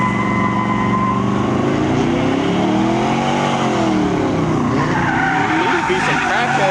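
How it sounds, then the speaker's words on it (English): Big truck skidding at a car meet, tires squealing and losing grip in a loud, sustained screech with engine noise, while voices shout over it. "Got a big old truck over here trying to get loose real quick."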